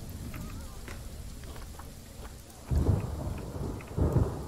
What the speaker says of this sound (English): It is raining so bad right now.